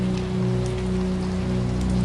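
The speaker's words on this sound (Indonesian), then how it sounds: "Malam itu, hujan turun sangat deras." Heavy rain pours down at night, a dense, steady hiss of drops that stays loud and unbroken throughout, with a low, constant drone underneath.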